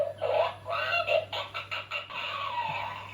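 Cedric, a squeezable rubber toy chicken, lets out a run of loud squawking clucks: several short bursts in an uneven rhythm, then a longer drawn-out cry, close by and alone.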